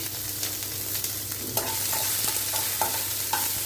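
Capsicum and green chili frying in a pan for a capsicum mor kuzhambu: a steady sizzle with a spatula scraping and stirring at irregular intervals, and no voices.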